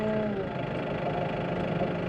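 A diesel tractor engine idles steadily nearby, a low rumbling drone with a faint knocking texture throughout.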